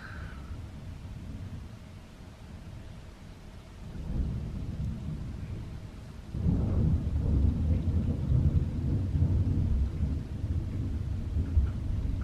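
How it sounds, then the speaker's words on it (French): A nighttime thunderstorm over a house, with steady rain hiss and deep rolling thunder that swells and stays loud through the second half, with no talk. "C'est les premiers orages qu'on vit dans cette maison-ci et du coup ça nous fait un peu flipper."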